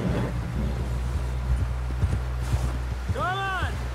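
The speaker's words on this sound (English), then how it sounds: "Someone help John down off this horse!" Horse hooves clip-clopping at a steady walk in Red Dead Redemption 2, approaching a camp with buildings ahead, faint beneath a constant low rumble, with a brief whinny near the end.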